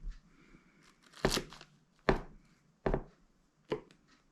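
A knife cuts through unbaked börek on a board, four distinct crisp chopping strokes spaced about a second apart, close and fairly quiet, with no talk over them.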